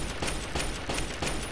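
A turret in the Fallout game A Tale of Two Wastelands fires in a fast, loud, rhythmic stream of shots, with a steady mechanical pulse repeating throughout and no talking.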